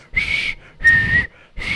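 Someone makes breathy failed whistling attempts, three airy bursts with a thin wavering tone, close and fairly loud, separated by short pauses.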